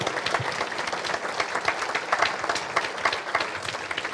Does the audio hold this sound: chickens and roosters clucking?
no